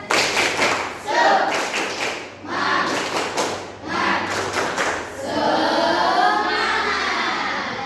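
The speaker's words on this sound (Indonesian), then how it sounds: "mari kita tepuk semangat dulu." A classroom of children performs a rhythmic spirit clap in unison, bursts of loud group claps and thumps in patterned beats, with children's voices chanting and shouting along between and over the clapping.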